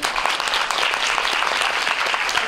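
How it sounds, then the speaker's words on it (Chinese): A lecture audience claps warmly to welcome a film critic and scholar, a dense, continuous roar of many hands at close range that holds steady from start to finish without speech. "我们再给他热烈掌声。"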